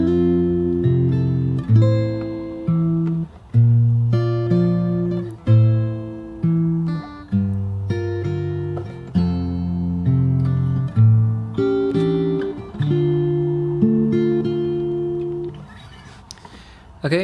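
Fingerstyle acoustic guitar playing the opening four bars of a song slowly, plucked chords ringing in a steady, unhurried rhythm, close and clear with no voice over it.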